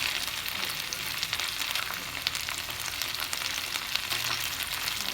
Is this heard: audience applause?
no